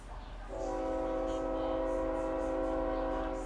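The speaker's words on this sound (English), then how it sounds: "And of course we got a train going by." A passing train in a video game gives a sustained, chord-like horn blast that starts abruptly and holds steady, fairly loud over a quiet background.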